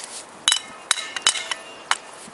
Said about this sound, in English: I hammer a little bit in here